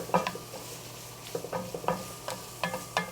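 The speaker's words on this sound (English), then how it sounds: "make sure these are completely covered in olive oil and just let them simmer a little bit" Onions simmering in olive oil in a pan, with soft continuous sizzling broken by several sharp stirring scrapes and clicks of a utensil at close range, no voices.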